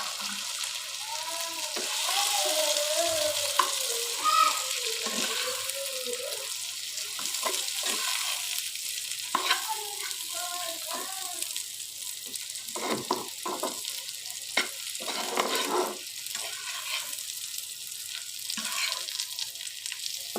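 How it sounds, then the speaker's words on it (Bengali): Fish sizzles and spatters steadily in hot oil in a frying pan, a dense close hiss with occasional clinks and stirring scrapes throughout. "এখানে এই পর্যায়ে মাছটাকে দিয়ে দিচ্ছি।"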